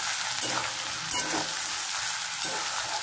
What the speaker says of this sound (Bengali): আমার আলুটা হালকা হালকা ভাজা ভাজা হয়ে এসেছে।